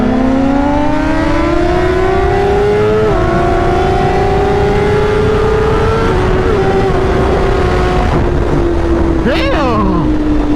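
Two sport motorcycles, a BMW S1000RR and a Honda CBR 1000RR, race side by side, their engines revving loud and rising steadily in pitch through the gears, with a gear-change dip and a whooshing pass near the end.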